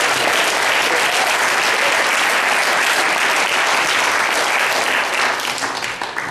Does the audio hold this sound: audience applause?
yes